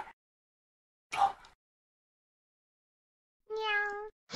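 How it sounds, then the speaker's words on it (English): A cat meows in a quiet room: a short call first, then a longer, clear tonal meow after a pause. "Meow."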